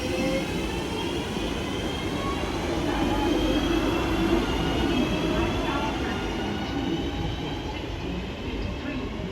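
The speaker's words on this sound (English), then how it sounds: "Train now departing is a Class 323 heading to Crewe." A four-carriage Class 323 electric train pulls away from a platform at St Helens Junction, a steady broadband rumble of wheels and traction motor holding at a constant close level throughout.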